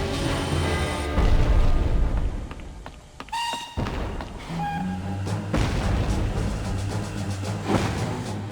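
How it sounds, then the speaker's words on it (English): Heavy booming thuds of artillery pound repeatedly in the game intro of Jeff Wayne's War of the Worlds, over a dramatic orchestral score, with a sudden sharp cut-off in the middle. "The pounding of guns from the common grew louder."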